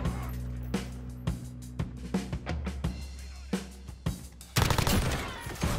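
KILO 141 rifle firing in a video game, with a series of sharp, loud single shots and short bursts at an irregular pace, then a dense, louder volley near the end.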